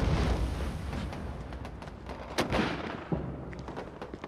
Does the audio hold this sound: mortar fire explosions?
yes